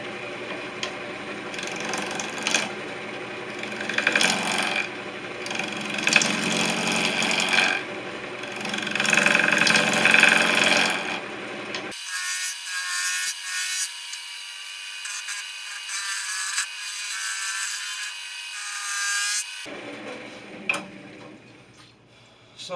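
Bowl gouge cutting a chestnut oak bowl on a wood lathe spinning around 910 RPM: a steady, rough scraping and whirring hum with some vibration, loud and close, broken by a brief dropout, with no talk.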